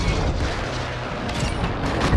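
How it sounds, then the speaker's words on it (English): Airstrike explosions in Call of Duty Warzone, a dense, loud barrage of booms and rumbling blasts running continuously with no clear gaps. "I just hit him with an airstrike."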